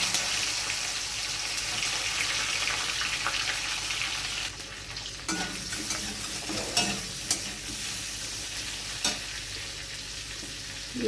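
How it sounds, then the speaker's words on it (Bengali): Shrimp sizzle in hot oil in a wok with a steady, loud frying hiss, broken by a few stirring scrapes and clinks later on, and no voices. "চিংড়ি মাছগুলো আমি হালকা করে ভেজে নেব।"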